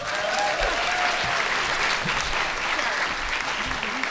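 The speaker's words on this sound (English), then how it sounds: "can I just give everyone a round of applause?" Steady applause from a panel audience at a book-to-film event at BookCon fills the whole stretch, dense and even, with a faint voice briefly audible underneath.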